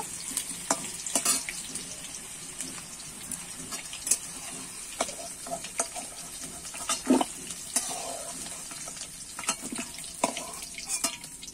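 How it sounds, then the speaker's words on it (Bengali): Potato pieces fry in hot oil in a pan and are turned until browned, giving a soft continuous sizzle broken by repeated scraping and clinking strokes of the stirring spoon, close up with no talking. "আমি নেড়ে চেড়ে লাল লাল করে আলুটা ভেজে নেব"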